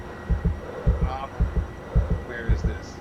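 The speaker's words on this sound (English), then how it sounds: "I don't want to hear my heartbeat." A pilot heartbeat sound effect from the Skyward Simulations Citation flight simulator thumps in a steady rhythm of paired low beats, repeating about every half second in the foreground with a faint hum behind.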